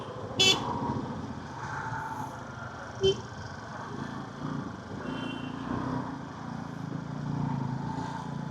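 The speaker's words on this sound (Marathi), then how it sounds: "ट्रॅफिक जास्त आहे." Heavy highway traffic rumbles steadily with passing engines and motorbikes, while two loud horn honks sound close by at separate moments and fainter toots carry farther off.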